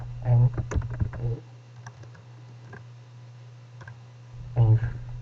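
Typing on a computer keyboard while entering an Excel formula: a short run of close, light key clicks between stretches of speech at the start and end.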